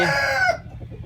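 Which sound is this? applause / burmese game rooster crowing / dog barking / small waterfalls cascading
burmese game rooster crowing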